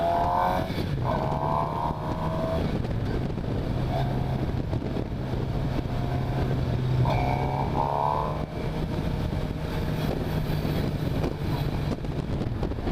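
A 2015 Suzuki GSX-R750 is ridden, its engine rising in pitch through the gears in repeated pulls with wind rush, loud and continuous.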